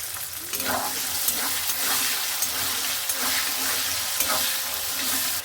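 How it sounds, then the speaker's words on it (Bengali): Green peas sizzle and fry in a wok with bits of coconut, a steady hiss broken by a few stirring scrapes, close and loud with no talk. "এবার আমি কড়াইশুঁটি দিয়ে দিলাম,"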